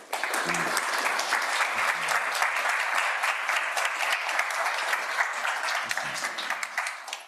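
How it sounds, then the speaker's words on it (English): An audience at a public talk on gag rules for public employee speech gives the speakers a sustained round of applause, a dense, even wash of many hands clapping that holds steady throughout with faint voices beneath. "If you all could give a warm round of applause to our speakers"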